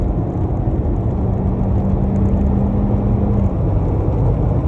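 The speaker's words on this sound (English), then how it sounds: "But then if I get on it right now, I mean, it downshifts quick, but" A 2015 Ford Escape accelerating hard with a downshift, its engine a steady low rumble with a rising whine that holds for a few seconds, loud and continuous with no talk over it.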